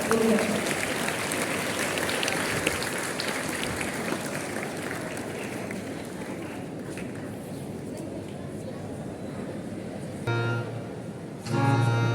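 An audience claps steadily in welcome of a patriotic song performance at an Independence Day program, a dense, moderately loud applause that fades slightly before a brief voice and music-like tones at the end.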